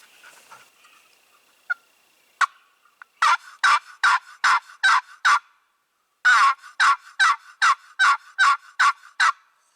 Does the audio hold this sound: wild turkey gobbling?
yes